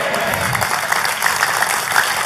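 A church congregation applauds in a dense, steady wash of clapping from many hands, loud and sustained throughout.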